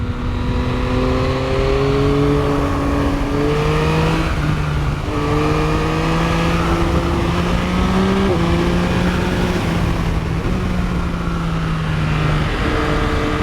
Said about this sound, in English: Beautiful motorcycle, doing everything I'm asking it to.